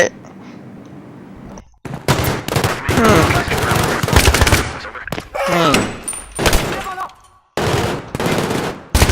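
Machine gun fire in a Battlefield 3 mission, loud rapid bursts that start and stop in clusters, with a pause near the start and another near the end, and people talking excitedly between shots.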